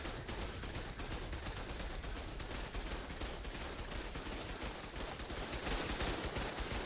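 Dense, continuous gunfire in ARK: Survival Evolved, a shotgun among heavy overlapping shots in a boss fight, loud and sustained throughout with no pauses.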